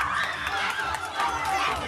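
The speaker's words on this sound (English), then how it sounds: "Volunteers, cheer as loud as you can, starting in 3, 2, 1, and they're off." Volunteers at a high school after-prom hypnosis show cheer and shout together in a dense, continuous burst of crowd noise that stays loud throughout.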